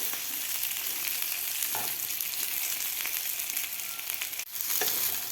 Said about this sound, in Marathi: आपल्याला हे बटाटे फ्राय करून घ्यायचे आहेत